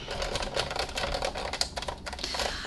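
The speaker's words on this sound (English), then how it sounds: "stick it into the eyelet embossing folder and run it through" An embossing machine cranks paper inside an eyelet embossing folder for a card, producing a continuous rattling, grinding crunch with rapid irregular clicks, close and steady throughout.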